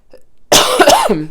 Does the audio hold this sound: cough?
yes